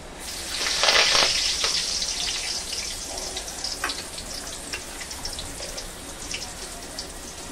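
Curry leaves hit hot oil in a kadhai with a sharp, loud burst of sizzling and crackling, which then settles into a steady, quieter fry with scattered pops.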